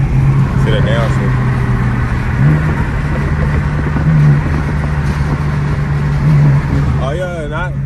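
A straight-piped BMW M4 sends out a loud, continuous low exhaust rumble from close by, holding a steady drone with slight rises in pitch, while someone talks over it.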